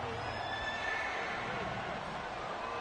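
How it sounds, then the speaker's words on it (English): A stadium horse-neigh sound effect plays for the Broncos during a Madden 25 football game, a loud whinny over steady crowd noise with commentary voices underneath. "Love that horse sound effect for the Broncos."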